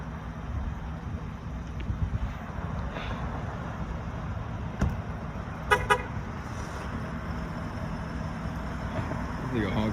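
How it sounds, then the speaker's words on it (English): A lifted 2018 Ford F-250 pickup gives two quick, short honks of its horn over steady engine and road rumble, with a voice talking in the cab around them. "You honk the horn."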